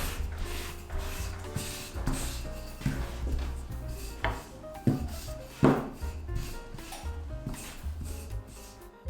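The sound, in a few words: rolling pin flattening dough on a floured board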